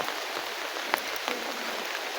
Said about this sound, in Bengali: আজকে সকালে বৃষ্টি হচ্ছে।